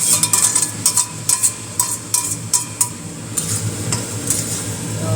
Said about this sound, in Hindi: अब जो हमने सब्जी सोटे की थी वो डाल देंगे